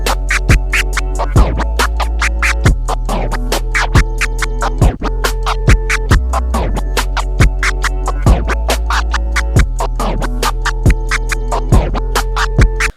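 Turntable DJ scratching in a two-click flare pattern, the record cut forward with two rapid fader clicks and pulled back the same way in reverse, repeating steadily over a continuous beat, loud and close with no talking.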